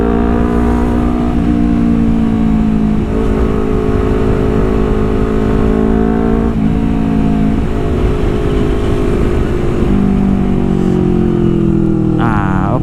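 Honda CBR250RR motorcycle riding through traffic, its engine a steady, loud, continuous drone with harmonic tones that rise and fall slightly as the rider modulates the throttle, with a brief higher rev near the end.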